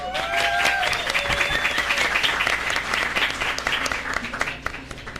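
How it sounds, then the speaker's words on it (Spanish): Audience applause at a talk on shark science, a full burst of many people clapping that runs steadily and fades slightly near the end, with a few faint tonal squeaks early on. "Un aplauso para Jorge."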